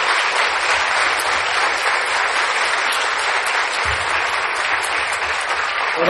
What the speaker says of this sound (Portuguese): salva de palmas para esse pessoal representado aqui.